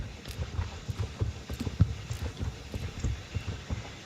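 A Brabant draft horse galloping, heavy hooves striking in a quick irregular rhythm of soft thuds, fairly faint and close, with no voices.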